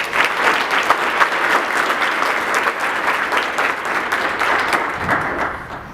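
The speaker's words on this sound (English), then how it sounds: "Give them a round of applause." A military ball audience gives a sustained round of applause, a dense, even wash of many hands clapping that fills the room loudly from start to finish and eases slightly at the end.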